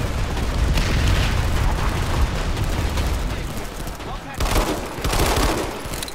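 Dense, loud gunfire in PlanetSide 2 rattles almost continuously with explosive bursts and booms, while a player talks over the battle.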